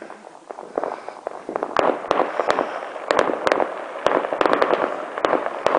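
Fireworks burst continuously, with crackling pops and sharp bangs coming in rapid, irregular succession over a steady rumbling wash.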